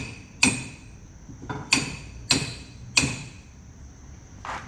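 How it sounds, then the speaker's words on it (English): A hammer striking metal under a car during straight-pipe exhaust work, four sharp ringing clangs spaced about a second apart, close and loud, with a faint knock between. "There's the hammer."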